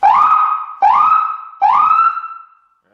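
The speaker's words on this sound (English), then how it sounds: "it will override the regular horn and cause the siren to come on" A vehicle siren set off through the horn button, three loud rising wails in quick succession, each swooping up and holding before cutting to the next, then fading to silence.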